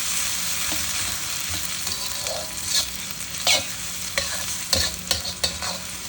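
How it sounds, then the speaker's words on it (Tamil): Mutton frying in a pan before pressure cooking for biryani, a steady close hiss of sizzling fat with occasional scraping stirs and clinks, and no voice over it. "இது நல்லா பொறிஞ்சு வரட்டும்"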